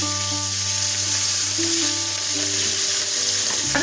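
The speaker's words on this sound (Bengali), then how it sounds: "আমরা এই গরম তেলের উপরে যোগ করে দিচ্ছি কেটে রাখা রুই মাছের মাথা।" Pieces of rohu fish head fry in hot oil in a kadai, giving a loud, steady sizzle that fills the whole stretch with no voices.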